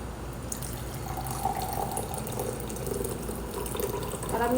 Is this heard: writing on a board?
no